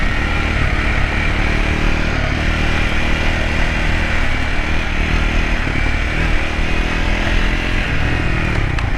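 A Triumph Scrambler 400 X motorcycle engine drones steadily and loudly while riding on a country road, with no talking.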